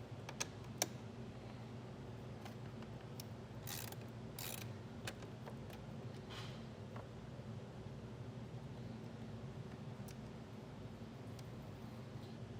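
Small mechanical ratcheting clicks and metallic taps as a nut is worked off the battery post of a 2023 Kia Sportage during trailer wiring installation, close and intermittent over a steady low hum.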